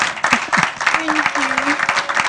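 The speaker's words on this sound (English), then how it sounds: "let's clap for her" Audience applause for a lucky winner during a live-streamed TV show, steady clapping throughout with a voice briefly speaking over it.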